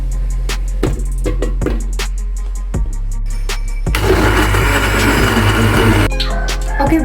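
A kitchen blender grinds chili, candlenut, ginger and turmeric into a paste: a few seconds of loud, dense whirring after some knocks and clicks, then it stops.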